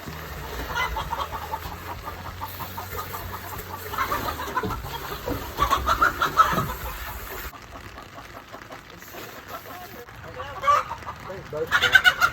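Chickens cluck in a backyard coop where hens lay eggs, a steady busy clucking chorus over roughly twelve seconds with scattered louder calls, recorded close with some rustling and background voices.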